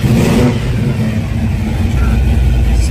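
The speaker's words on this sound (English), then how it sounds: "I wanted to do that before I started up because she's a salty sounding engine" A muscle car engine with Sniper EFI runs loud and rough, with a deep rumbling growl that holds steady and surges close by, and voices can be heard talking over the engine noise.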